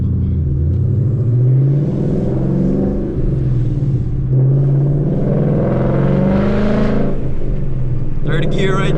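2018 Ford Mustang GT with an MT82 manual gearbox accelerating hard through the gears, its loud rising engine note dipping at each shift. Someone speaks over the engine from inside the car.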